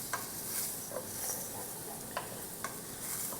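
Onions frying in a pan, a soft continuous sizzle with a few crisp clicks of a utensil stirring and scraping, fairly quiet and close.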